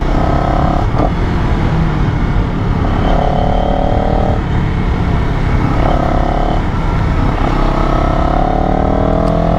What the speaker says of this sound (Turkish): Egzo ses aynı şekilde güzel.